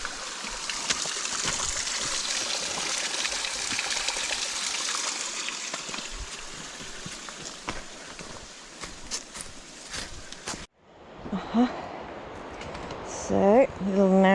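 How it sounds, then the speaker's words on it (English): Water rushes steadily along a mountain stream in a valley near Lake Como, a broad continuous hiss that sits at a moderate distance. Partway through it drops away and close footsteps and a voice take over the foreground. "can you hear that water gushing in the valley below?"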